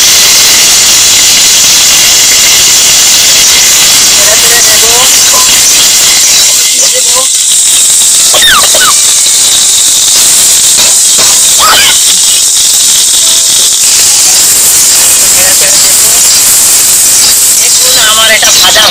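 Beans frying in a pan with black cumin, whole fennel seeds and curry leaves, a loud steady sizzling hiss that continues throughout, with brief bits of background sound breaking through.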